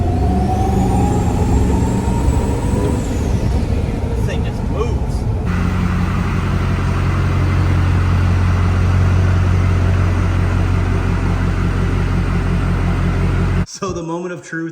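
A Duramax diesel pickup fitted with a new wheel and tire setup, built to around 1000 hp, cruising at 55 mph with a loud, steady engine drone and road rumble from inside the cab, cut off sharply near the end.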